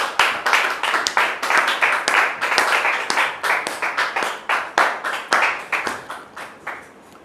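An audience welcomes a guest onto a French-language talk show with vigorous, close applause, dense rhythmic hand claps rolling in steady waves throughout before fading slightly at the end.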